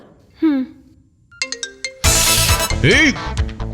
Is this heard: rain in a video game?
no